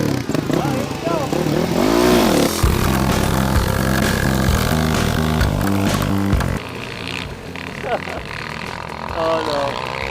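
A dirt bike engine revs hard in second gear on a steep hill climb at Cinder Hills, loud and close with rising and falling pitch, while riders talk and shout over it.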